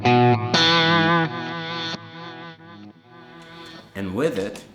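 Electric guitar through a Source Audio Nemesis pedal adding reverse delay to a hall reverb, bright sustained chords that swell and shift, followed by brief swooping reversed tones near the end, loud and up close.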